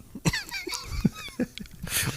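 A few short, sharp coughs close by, spaced irregularly over a couple of seconds with faint background noise between them.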